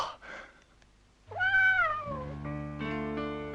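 A cat meows loudly and close, a long drawn-out yowl in a quiet setting, followed by a lower sustained musical tone.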